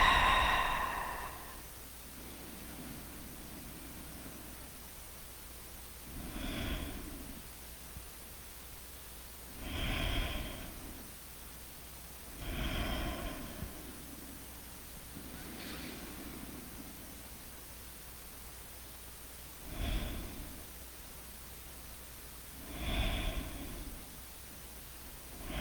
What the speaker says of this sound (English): And then exhale the rest of the way.